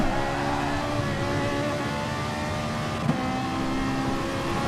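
A Ferrari race car engine drones steadily in a racing game at Bathurst, a loud, sustained tone that holds near constant, with one brief blip as the revs shift and no talk over it.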